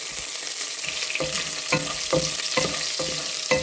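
Garlic, mustard seeds and red chillies sizzle steadily in hot oil for a Kerala-style potato stir-fry, a continuous close hiss broken by several sharp crackles and spoon scrapes.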